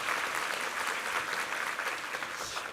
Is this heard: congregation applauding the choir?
yes